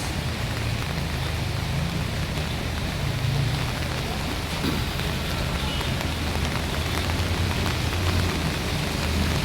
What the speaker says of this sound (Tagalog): Grabe, umulan, bumagyo